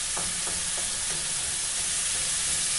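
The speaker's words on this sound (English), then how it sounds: "I've added some water in with the last of the garlic and ginger paste. Just tip this in and give this a bit of a stir." Water and garlic-ginger paste stirred into a sizzling turkey mince samosa filling, a steady close hiss and bubble with soft scraping strokes of the spoon.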